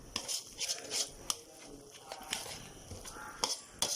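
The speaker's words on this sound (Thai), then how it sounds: "บดหมูสับนะคะ ผัดก็เขี่ยไปเรื่อยๆนะ คนไปเรื่อยๆ" Minced pork being stir-fried in a pan for Khanom Jeen Nam Ngiao, with a utensil scraping and clinking against the pan in irregular strokes over a steady sizzle, close up.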